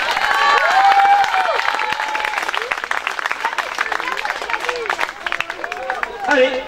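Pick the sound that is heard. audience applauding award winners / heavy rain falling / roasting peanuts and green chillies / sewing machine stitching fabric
audience applauding award winners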